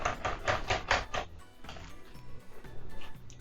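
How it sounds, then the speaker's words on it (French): Yogurt degue mixture stirred in a bowl, a quick series of rhythmic scraping clicks from a utensil followed by softer, scattered scraping, close and moderately quiet, with no speech. "Mélangez bien encore."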